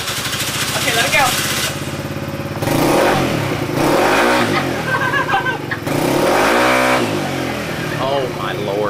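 A small child's scooter motor starts and revs in surges, its whine climbing and falling in several loud bursts close by, with children and adults talking over it.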